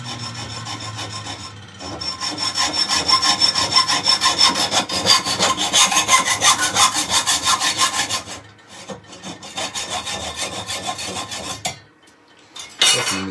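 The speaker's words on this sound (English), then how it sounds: "And then I go straight to the" A hacksaw cuts through a piece of wood held on a lathe, making rapid back-and-forth rasping strokes that are loud and close, pausing briefly twice before a final burst of strokes.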